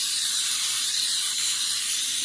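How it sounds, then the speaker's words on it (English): Cooking spray from an aerosol can coating a 13 by 9 sheet cake pan, a continuous close hiss, steady for a couple of seconds without a break. "we're going to spray our 13 by 9 sheet cake pan"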